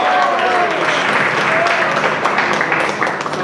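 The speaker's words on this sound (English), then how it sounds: "Please give him a big round of applause" An audience at a seminar gives Maharaj a loud, sustained round of applause, dense clapping that holds steady for several seconds.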